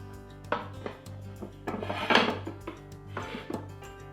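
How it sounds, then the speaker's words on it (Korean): An apple tarte tatin is turned out from its pan onto a larger plate: a run of soft clinks, wooden knocks and scraping of pan against dish, with a louder clatter in the middle, close by. "팬보다 큰 접시를 꺼내 뒤집어 줍니다."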